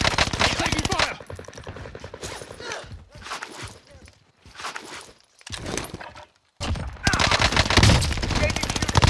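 PPSh submachine gun hip-fired in Call of Duty Warzone Season 2, loud rapid automatic bursts broken by short pauses, with a long sustained burst near the end.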